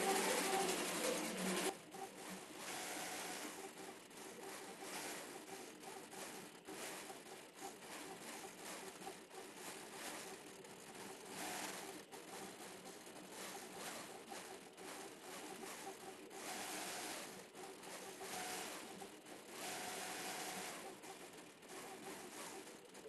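An Innova quilting machine stitches on its own with a continuous mechanical whir and fast, steady rhythmic pulsing that runs throughout at moderate, even loudness, with no talk.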